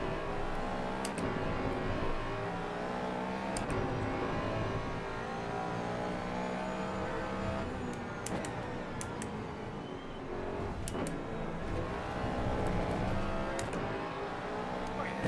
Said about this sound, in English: the Porsches are going way too fast